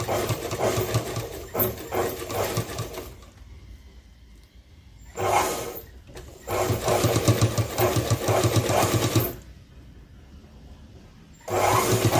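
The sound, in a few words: sewing machine stitching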